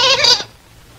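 A single loud, wavering goat bleat fills the first half-second, then cuts off into near silence with only faint background hum.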